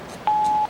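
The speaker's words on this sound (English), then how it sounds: "At the tone, please record your message." A voicemail system's recording tone sounds once, a single clean steady beep of under half a second, loud and isolated against near silence.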